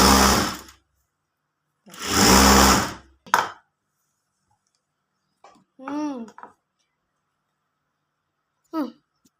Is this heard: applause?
no